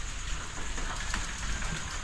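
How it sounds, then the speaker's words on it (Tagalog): Heavy rain falls on a boat trip bound for Ortiz, a steady, fairly quiet hiss of drops with no voices over it. "Ayan, maambon. Hindi na pala ambon. Malakas na rin."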